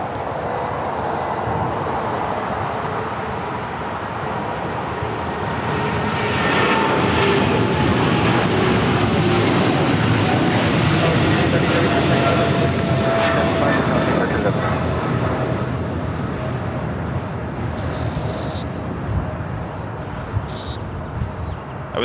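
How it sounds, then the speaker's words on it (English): A jet airliner passes at LAX, a broad roar that swells through the middle and fades slowly, with a person talking over it and distant airport traffic beneath. "That was a flight heading to Shenzhen."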